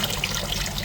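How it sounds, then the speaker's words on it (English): Water runs and trickles out of a Peugeot Boxer diesel particulate filter as red ash is flushed into a bucket, a short, steady splashing flow. "now we've got more water coming out"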